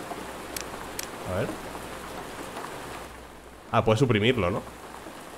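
Steady rain ambience in the survival shooter Road to Vostok: a continuous soft hiss of falling rain, with someone speaking briefly over it.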